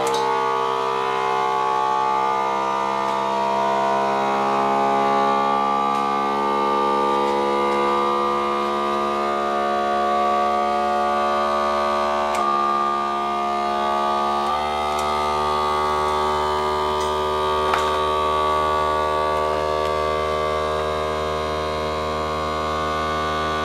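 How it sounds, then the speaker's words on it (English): A vacuum sealer pumping the air out of a jar of freeze-dried food, a loud steady mechanical whine with a strong tonal hum that holds for over twenty seconds, its pitch shifting slightly partway through. "I'm going to make noise for a second here because I'm going to vacuum seal this"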